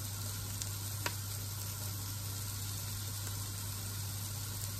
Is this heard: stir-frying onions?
yes